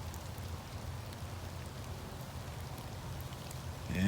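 Steady rain falling outdoors in the Arkansas woods, an even hiss of drops on the ground and foliage throughout, with a brief louder rustle near the end.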